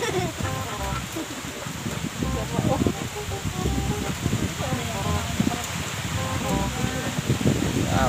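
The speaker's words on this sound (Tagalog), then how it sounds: "Lakas ng hangin." Strong storm wind roars steadily over a bamboo-roofed hut, broadband and continuous, with rustling and flapping throughout and people talking underneath.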